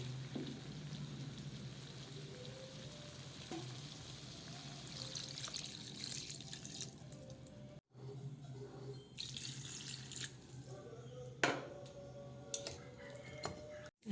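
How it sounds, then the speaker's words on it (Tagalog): Water runs and splashes steadily into a pot for several seconds, pauses, then resumes, with a few clinks of cookware. "Lalagyan ko siya guys ng tubig."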